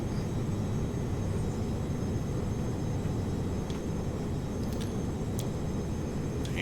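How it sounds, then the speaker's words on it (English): Thrust reversers roar on a Captain Sim 737-200 just after landing in a flight simulator, a steady, loud, broad jet rumble that stays constant throughout with no talking. "Alright, we're down. Reversers engaged."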